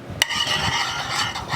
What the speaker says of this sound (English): I'm going to stir this and cook until it's thickened